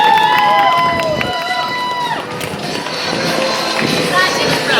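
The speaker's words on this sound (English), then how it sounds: "Big round of applause" A crowd at a fashion and awards show applauds steadily and loudly for several seconds, with cheering and high whistling tones rising over the clapping.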